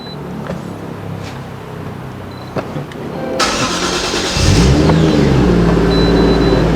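A Toyota JZX100 Mark II Tourer V engine with a rebuilt motor and Tomei M8280 turbo cranks and catches, then settles into a steady rumbling idle with a light rev, close by.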